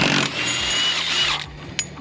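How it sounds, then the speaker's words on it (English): A power tool whirs loudly and continuously up close while removing subframe bolts on a BMW F22 M240i, then winds down and ends with a short sharp mechanical clack. "we're gonna go ahead and zap these subframe bolts"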